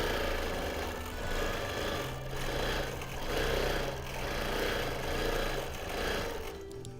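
A longarm quilting machine stitches a six-sided Christmas tree skirt, a rapid, continuous mechanical whirring and needle chatter with gentle rises and falls in loudness, close and steady throughout.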